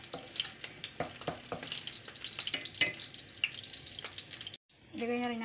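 Garlic sizzles in hot frying oil with a crackling hiss and scattered pops and stirring clatters, close and moderate, breaking off briefly near the end before a sink tap runs.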